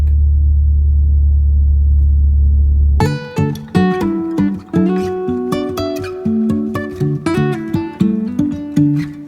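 A car engine rumbling while driving, a loud, steady low drone close by for about three seconds before music cuts in and takes over.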